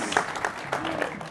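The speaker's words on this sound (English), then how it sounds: "Round of applause for baby KJ" Conference audience at a science summit gives a brief round of applause, scattered claps with a few sharper hits, mixed with a voice.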